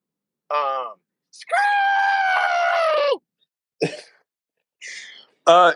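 A person lets out a long, loud, sustained scream on an online group call, framed by shorter vocal yelps and grunts before and after.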